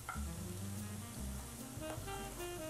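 Mushrooms and onions fry in a pan with a soft, continuous sizzle, heard faintly and close up with no voices.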